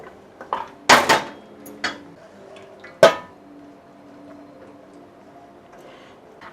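Spinach paste going into a pot of palak green chicken biryani brings sharp metallic clinks and taps of a spoon against the pot, a few clustered hits followed by a single loud clang, then quiet.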